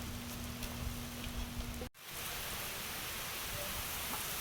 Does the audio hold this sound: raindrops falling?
yes